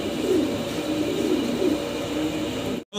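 Pigeons cooing nearby in a pigeon loft, soft repeated throaty coos over a low background hum, with a brief drop-out near the end.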